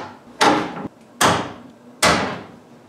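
Solid pine pantry doors being fitted onto their hinges, three sharp wooden knocks at a steady pace, each with a short decaying rattle, close and fairly loud with no talk.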